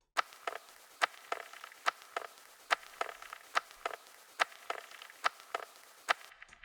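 Retro sound effect percussion sample looping in a dark techno track: quiet, dry clicky ticks in a steady syncopated pattern, thin and mid-pitched, without any low end, no talking.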